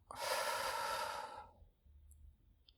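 A long, soft exhalation during a relaxing sleep meditation, close and breathy, starting strong and trailing off over about a second and a half into near silence.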